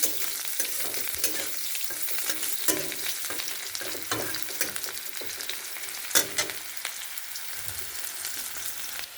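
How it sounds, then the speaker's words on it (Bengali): Chopped onions, cut in fairly large pieces, fry in a pan while being stirred, giving a steady close sizzle broken by repeated scraping strokes and occasional sharper clinks of the utensil. "আগে পেঁয়াজ কুচিটা একটু নেড়ে নেবো"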